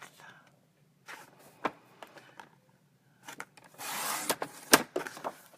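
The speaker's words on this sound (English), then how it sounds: "We're going to cut the correct size cardstock for this mat." Paper trimmer slicing cardstock for a card mat, a few short scraping and sliding strokes at close range separated by pauses, ending in a louder rasping cut.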